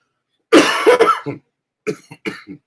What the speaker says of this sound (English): You're going to get all the coughs tonight because I'm live.